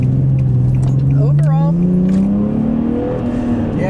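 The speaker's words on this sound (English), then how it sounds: "It is a buttery smooth engine" Engine of a 2012 Infiniti G37x sedan revs and pulls smoothly, a steady rising drone building through the whole stretch while someone talks over it from inside the car.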